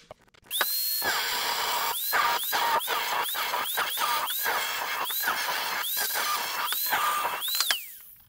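A power tool cuts around a vehicle floor panel during a Chevrolet K5 restoration, giving a loud, high-pitched squealing whine that repeatedly stops and restarts in short bursts, close up with no talking.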